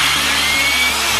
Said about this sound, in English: I want to make sure that I drill only through one side and not both.